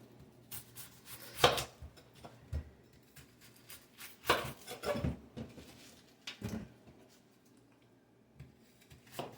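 A large Vidalia onion being cut into big chunks with a knife on a board: a few separate, irregular chops with quiet gaps between them, close and moderately soft, no voices.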